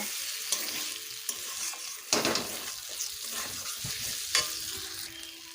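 Fried pointed gourd and potatoes are stirred in a sizzling pan of spiced oil, with a spatula scraping and knocking in irregular bursts over a constant close frying crackle.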